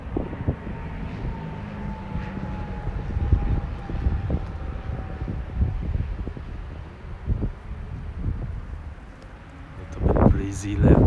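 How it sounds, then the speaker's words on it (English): An airplane passing overhead on a breezy spring day among large trees in Tokyo, Japan, heard as a faint steady drone under gusty wind noise, with a louder rustle near the end. "Ooh, airplane."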